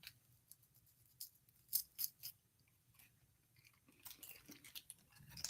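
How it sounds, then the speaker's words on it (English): Crunchy bites and chewing from someone eating, a few sharp crisp crunches spaced apart, then softer irregular chewing noises, close and fairly quiet with no talking. "I'm going to take a bite now, so you're going to hear crunching."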